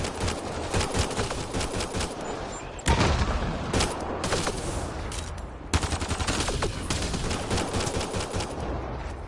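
Rapid bursts of automatic gunfire rattle continuously, loud and close, with a couple of heavier thumps, in a battle from the video game Mass Effect Andromeda.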